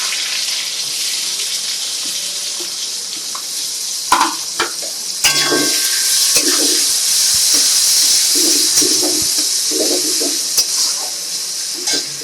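Sliced onions frying in oil with garam masala, dried red chilli and bay leaves for Bengali mutton curry. A few clunks as the onions drop in, then a loud, continuous sizzle with intermittent stirring scrapes.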